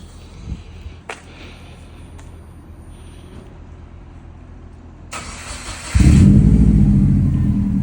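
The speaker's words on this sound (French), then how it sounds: "on retrouve bien le bruit mythique du coup de la Subaru" A Subaru car engine cranks and catches, idles briefly, then revs up loudly with a deep, throaty rumble close by.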